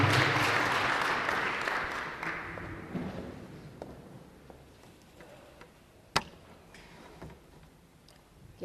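Audience applause at a crime indaba gathering, loudest at the start and fading over several seconds into scattered claps and a sharp tap near the end.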